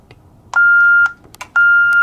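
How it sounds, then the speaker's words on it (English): A triggered wireless smoke detector sends two long, loud, steady electronic tones, each about half a second long, with clicks and short blips around them against a quiet room. "I'm going to trigger the wireless smoke detector"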